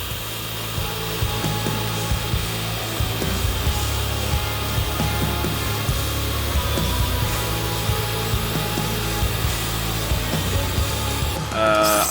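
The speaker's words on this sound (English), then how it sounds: "I'm drilling the holes into the actual chassis frame to mount the radiator support" A steady, loud drill grinds continuously through a steel chassis frame with a constant whine and rough rasping texture, ending abruptly near the close.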